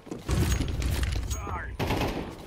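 Rapid gunfire from the game Counter-Strike 2, loud and dense across most of the stretch, mixed with a voice talking over the shots.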